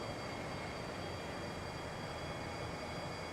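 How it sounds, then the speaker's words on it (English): Trams crossing a bridge in Bus Simulator 21 on PS5, a steady low rumbling roll with a faint high whine, constant and moderately distant, with no voices. "there's the trams going across the bridge there."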